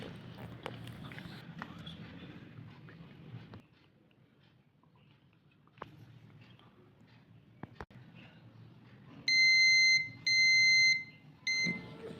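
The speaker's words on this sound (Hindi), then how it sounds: "देखें बजर की आवाज़ आ रही है आपको" A multimeter set to continuity gives out a buzzer beep, three loud steady tones in short bursts near the end, after quieter handling noises and clicks.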